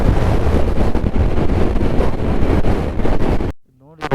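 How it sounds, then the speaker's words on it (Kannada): Heavy crosswinds buffet a motorbike on a remote Ladakh ride, a loud, constant roaring rumble for about three and a half seconds before cutting out abruptly into near silence with a brief faint voice-like sound at the end. "ಹೆವಿ ಕ್ರಾಸ್ ವಿಂಡ್ಸ್, ತುಂಬ ಕ್ರಾಸ್ ವಿಂಡ್ಸ್"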